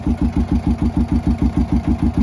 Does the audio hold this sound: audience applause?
no